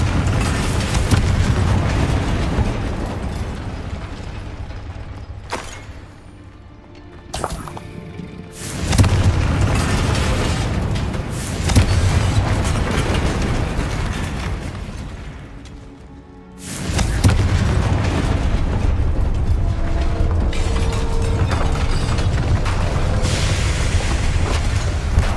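Confringo fire-spell explosions in Hogwarts Legacy: heavy, booming blasts rumble almost continuously, with a few brief dips between the loud bursts and no talking.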